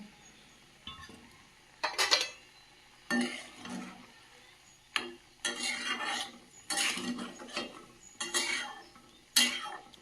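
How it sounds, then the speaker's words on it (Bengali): Fried puti fish dropped into a simmering okra and brahmi shak curry, with a spoon scraping and stirring in the pan in bursts of clinks and rustles, close up and without talk. "এই পর্যায়ে ভেজে রাখা পুঁটি মাছগুলো দিয়ে দেব"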